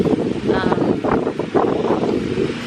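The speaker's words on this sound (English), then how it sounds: "It's still a little windy" Steady breezy wind rushing past the microphone, a broad continuous roar with gusty fluctuations throughout.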